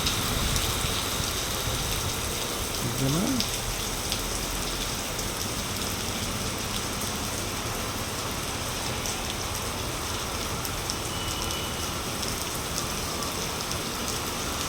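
Heavy evening rain falls in a steady, dense hiss, with wind moving through trees, loud and unbroken, and a voice speaks very briefly.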